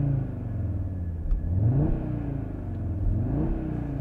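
A 2020 Audi RS Q3 Sportback engine revs in neutral, rising in two or three loud, steady blips over a continuous idle rumble, close by with no talking.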